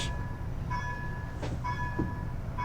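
An Alstom Coradia Lint light-rail car on the O-Train Airport extension, heard from on board as it runs on rails with a steady low rumble, a few tonal whines and faint clicks, close and continuous.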